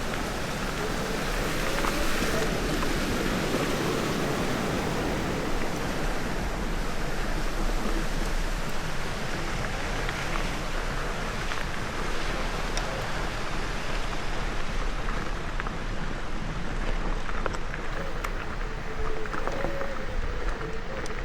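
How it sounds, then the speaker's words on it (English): A trail-side creek flows steadily, a continuous broad rushing wash heard close and fairly loud without a break. "A creek."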